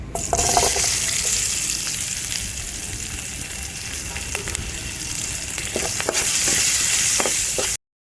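Loud, continuous frying sizzle of small shallots in hot oil with occasional stirring scrapes and pops, close by and steady throughout.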